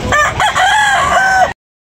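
A rooster crows once, loud and close, a long drawn-out call that cuts off abruptly, at a cockfighting venue in Tabunok, Talisay, Cebu.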